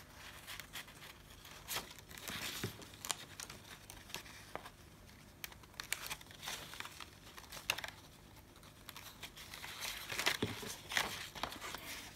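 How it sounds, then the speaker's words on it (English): Paper being folded and creased by hand for a pop-up card, faint crinkles and soft rustling taps, quiet and close. "you're going to be just folding where you've drawn the"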